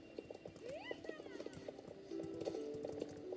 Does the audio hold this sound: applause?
no